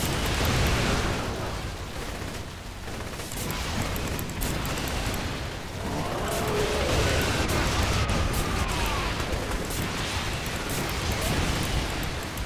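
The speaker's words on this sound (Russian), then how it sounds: "Слишком все непонятно, много взрывов." Dense, continuous explosions and crashing destruction in the co-op video game Saints Row: The Third, loud and chaotic, with blasts overlapping across the whole stretch and faint voices underneath.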